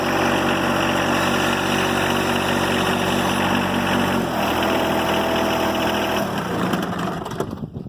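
A John Deere 1025R compact tractor engine runs steadily and close by, a loud, even drone throughout that shifts to a slightly different tone partway, with no talking.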